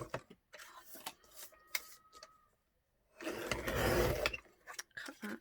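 A paper guillotine slices through grey and yellow card in a craft room, scattered small clicks and handling noises followed by one loud, grinding cutting stroke, then more light taps.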